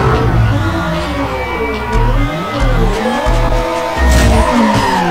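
Race cars in Need For Speed Underground Rivals roar and skid, tyres squealing in long wavering screeches over a loud engine drone that surges and dips, close and continuous throughout.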